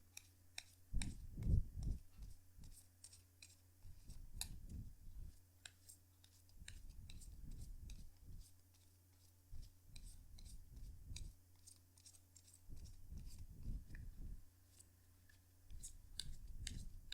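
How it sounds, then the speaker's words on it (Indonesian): Tarot cards shuffled by hand in a quiet room, soft repeated riffling and clicking bursts in a steady rhythm over a low hum, close and faint. "kartunya dikocok dulu sebelum kita mulai"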